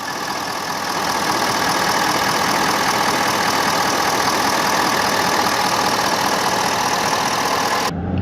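A 2024 Ford F-250 Super Duty Lariat engine idles in a steady, close, unbroken drone with a faint knocking texture, heard alone without any talk until it cuts off at the end.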